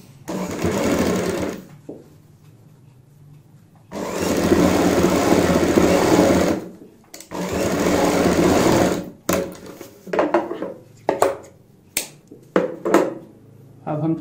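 A sewing machine stitches a boat-neck kurti in several loud, close bursts of rapid whirring, separated by pauses, with shorter stitching bursts toward the end.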